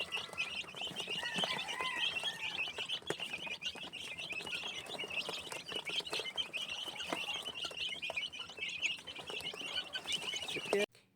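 Small chicks cheep and peep continuously at a feeder in a farm setting, a dense chorus of high chirps with scattered light clicks and rustling throughout, no talk.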